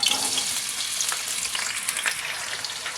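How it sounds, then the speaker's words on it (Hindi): Chopped onions frying in hot cooking oil in a kadai, giving a bright, steady, close hiss and crackle with faint stirring scrapes. "चॉप की हुई प्याज डालते हैं"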